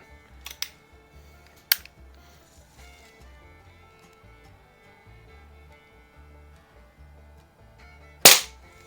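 A 1970s Smith & Wesson Model 79G .177 CO2 target pistol fires sharp, short cracks: a couple of quick shots early, another near two seconds, and a louder final pop near the end, with quiet clicks and room noise between.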